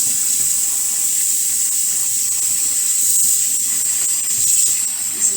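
Water rushes steadily from a tap as rice is rinsed to wash off the starch. A loud, close, continuous hiss carries on without a break.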